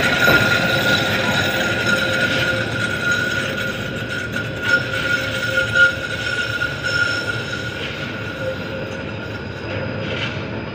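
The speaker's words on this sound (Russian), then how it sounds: "видите, едет трамвайчик, он пойдет по другой линии" A tram rolls past on rails with a steady rumble and occasional wheel squeal, fading gradually as it moves away.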